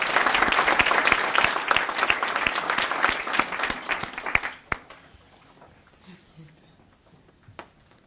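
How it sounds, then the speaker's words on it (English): Audience applause at a 2018 VET International Practitioner Fellowship award presentation, honouring a recipient: dense, steady clapping from a crowd for about four and a half seconds, then cutting off sharply to a quiet room with a few faint stray sounds. "So can everyone please put your hands together and congratulate Liz."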